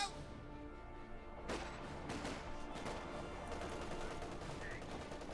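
Machine gun fire cuts down sappers in Company of Heroes 2, a real-time strategy game: faint, distant bursts of rapid shots with a few sharper cracks over a low battlefield din.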